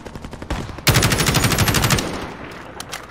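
Automatic gunfire in the Modern Warfare video game: a few scattered shots, then a loud, rapid sustained burst of fire lasting about a second before tailing off into echoing quiet.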